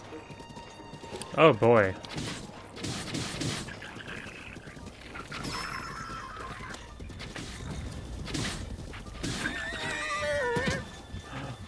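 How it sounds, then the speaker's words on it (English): Horse hooves clip-clop and a horse neighs loudly near the start in the Zelda Breath of the Wild video game, with game music and effects continuing while someone talks over the scene. "Some good looking horse over here"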